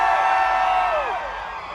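A crowd of Fast and Furious fans at Fuel Fest whoops and yells, a loud burst of cheering that swells briefly and then slowly fades.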